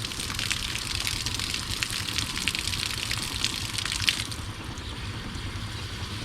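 Warm water runs steadily from a tap, a continuous hissing splash that carries on evenly and eases slightly softer toward the end.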